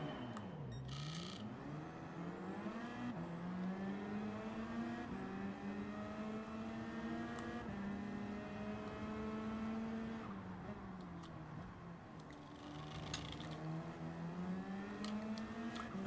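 Race car engine in Gran Turismo 7 with traction control on, revving and accelerating steadily through gear shifts at close, constant loudness, with some tyre squeal and no talk.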